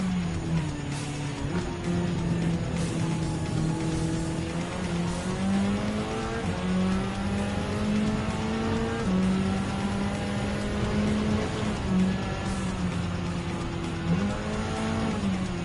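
Race car engines in Gran Turismo 7, an FF Group 4 car against an S15 touring car in FR layout, drone steadily throughout, with rising and falling pitch through gear changes and acceleration, loud and continuous with no talking.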